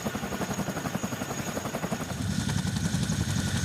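A heavy-lift US military helicopter flies during an invasion exercise, its rotors beating in a rapid, steady thump under a continuous engine whine, moderately distant and growing slightly fuller toward the end.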